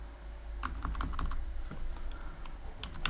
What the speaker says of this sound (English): I will type